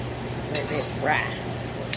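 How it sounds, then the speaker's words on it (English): Fresh fish fries in a pan on a home stove at a steady low sizzle, with a few clinks of utensils against cookware and a voice speaking faintly in the background. "Okay, just gonna let that fry."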